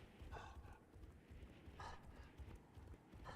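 Hooves of a ridden mount clip-clop in a quick galloping rhythm inside a video game, faint and repeated several times across a few seconds with a little background noise.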